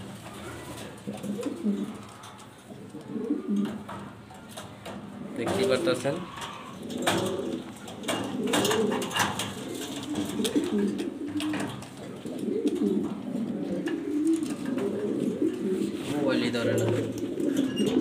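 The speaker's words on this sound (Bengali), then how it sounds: "এখানে আছে মালতেস টপ কোয়ালিটি এ গ্রেডের ভালো একটা মাদি কবুতর" A large Maltese hen pigeon coos in soft, low, repeated rolling phrases close by, while someone talks over much of it.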